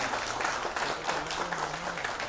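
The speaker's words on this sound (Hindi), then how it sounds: "तो एक बार आप सब जोरदार तालियों के साथ स्वागत करें" Audience applause welcomes guests at a show launch event, a dense, continuous patter of many hands clapping at moderate volume, slightly distant and even from start to finish.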